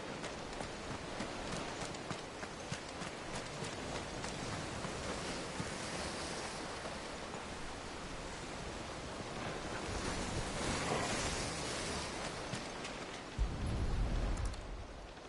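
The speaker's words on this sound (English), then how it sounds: "The water of the sea." Sea waves in Final Fantasy XVI, a continuous wash of surf rolling in with steady windy noise, swelling slightly toward the end, no voices.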